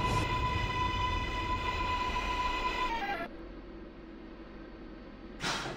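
An R188 subway train on the New York 7 line in the OpenBVE simulator game runs with a steady rumbling roar and a high motor whine that drops in pitch as the train slows, then a brief hiss near the end, with no talking.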